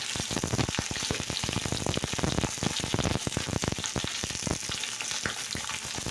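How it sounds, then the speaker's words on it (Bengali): Pointed gourd pieces fry in hot oil with a dense, crackling sizzle full of rapid pops, loud and close throughout, with no talking. "তো দেখো আমি এখন পটলটা ভেজে নেব"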